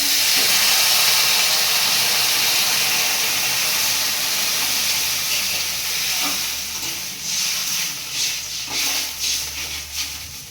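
Dal tempering with onion and chili sizzles loudly in hot oil, a dense continuous hiss that softens and breaks into uneven bursts toward the end, with no talk.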